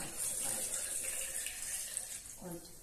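Water splashes and gushes steadily, close by, as a full glass of water is poured into a strawberry bubble tea shake mixture, with a faint voice briefly near the end.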